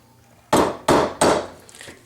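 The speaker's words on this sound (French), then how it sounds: "avec un coup de marteau, ce qui me permet de glisser ce fil qui est écrasé" Three sharp hammer blows in quick succession flattening the end of an unannealed earring wire, each crisp strike ringing briefly and decaying, close and loud.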